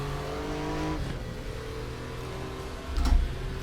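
A Porsche 911 (964) with a 3.6 litre engine revs in the RaceRoom racing game, a steady engine drone that dips and then surges briefly louder near the end, with no voices.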